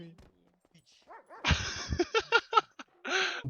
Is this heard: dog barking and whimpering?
yes